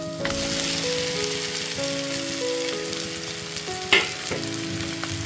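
Pre-fried cauliflower and potato pieces go into hot oil with a cooked-down spice base for a katla fish curry, giving a loud, steady sizzle and crackle with a sharp utensil clatter partway through. A low steady hum runs in the background.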